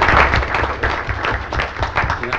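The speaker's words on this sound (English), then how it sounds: "So a round of applause" Audience at a school board meeting clapping steadily and fairly loud for the full stretch, a dense patter of many hands with no voices rising above it.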